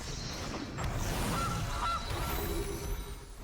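A goose honks in short bursts as a game sound effect during an MTG Arena Standard match, moderately loud over a busy background of game music and effects.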